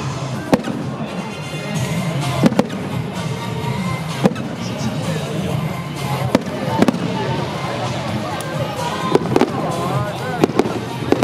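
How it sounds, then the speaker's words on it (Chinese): A high-altitude fireworks show at a Guanmiao Shanxi Temple jiao festival bursts in sharp, irregular cracks and booms over a continuous crackling rumble, with people talking throughout. "咱这烟火秀"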